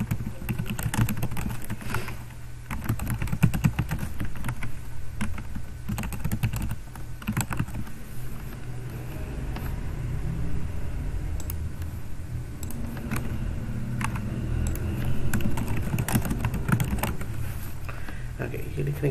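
Keys clatter on a computer keyboard in quick irregular bursts while text is entered into a PowerPoint slide, close and steady over a low background hum, with a voice talking in Hindi at times.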